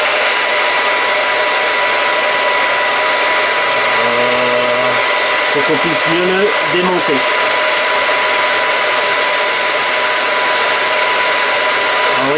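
A hair dryer blows steadily and loudly at close range, softening the plastic casing of a Makita lithium-ion tool battery, with a short spoken remark midway over the constant whir.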